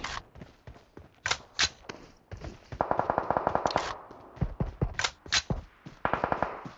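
Gunfire in the mobile battle-royale game PUBG Mobile, with quick bursts of automatic shots and scattered single cracks spread through the clip, fairly close and punchy, with no talk over them.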